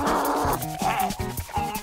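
A cartoon puppy yips and whimpers in short, high, clipped bursts, close and clear over soft animated background music.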